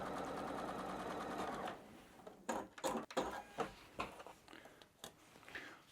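A domestic sewing machine stitches a quilt seam with a fast steady whirring hum for about two seconds, followed by quiet clicks, thumps and fabric handling.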